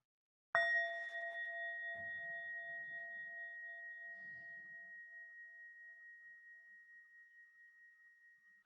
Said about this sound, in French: Je sonne la cloche.